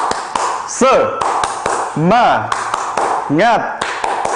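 A 'tepuk semangat' routine for a third-grade primary school class: sharp rhythmic claps and taps in a patterned sequence, close and loud, interleaved with a voice chanting in bursts between them.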